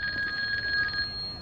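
Telephone ringing in GTA 5, a bright electronic trill sounding steadily for about a second before cutting off, fairly quiet.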